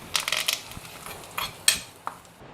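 Sautéed onion mixture is scraped and tipped from a pan into another vessel, giving a run of close metallic clinks and scrapes with a few sharper knocks near the end, and no voices.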